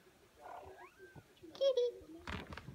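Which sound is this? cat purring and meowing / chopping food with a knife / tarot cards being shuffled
cat purring and meowing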